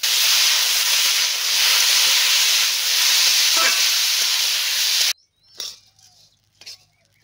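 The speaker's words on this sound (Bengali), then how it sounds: "এখন এর মধ্যে ধুয়ে রাখা গোবিন্দভোগ চাল দিয়ে দিচ্ছি। এগুলোকেও হালকা ভেজে নেব।" Gobindobhog rice frying with cashews and raisins, a loud, dense sizzling hiss for about five seconds that stops abruptly, followed by faint scattered clinks and stirring sounds.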